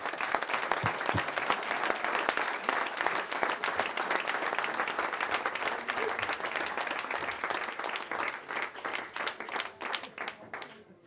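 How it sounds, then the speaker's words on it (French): A crowd applauds loudly at a TeeBreak 2014 prize-giving event, a thick, continuous patter of many clapping hands that gradually thins into scattered individual claps toward the end. "je pense qu'on peut tous t'applaudir très fort"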